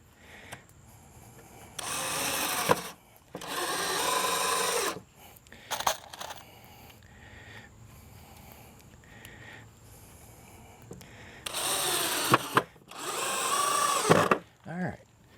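A power drill drives screws into a wooden outdoor end table, in four loud whirring bursts of a second or two each, separated by quieter handling sounds.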